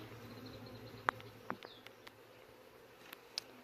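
Honey bees humming around an open hive during a frame inspection, a soft continuous buzz close by with a few sharp clicks and taps from handling, no talking.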